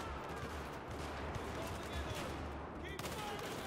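Battlefield 4 gunfire in a campaign battle, a dense continuous rattle of distant shots under a steady noisy backdrop, with someone speaking.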